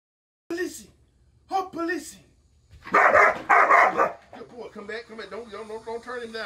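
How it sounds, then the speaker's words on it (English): German shepherd puppy barking during protection training, giving a few sharp separate barks, then a loud burst of rapid barking, with a trainer's voice talking over the later part. "Now we want to get some high bark aggression now that we did a little prey work."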